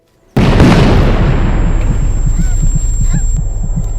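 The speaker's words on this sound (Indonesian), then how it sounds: "ledakan terjadi tepat di belakangnya," A loud, close explosion bursts in suddenly after brief silence, followed by a sustained rumbling roar and scattered crackling debris, used as a sound effect in a narration about a young Soviet soldier in World War II.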